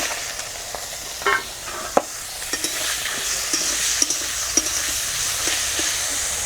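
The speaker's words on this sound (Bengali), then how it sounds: "তেলটাও সুন্দর ভাজা হয়ে গেছে আর বেগুনটাও ভাজা হয়ে গেছে।" Eggplant frying in hot fish oil in a covered pan, giving a steady close sizzle with scattered sharp pops and crackles throughout.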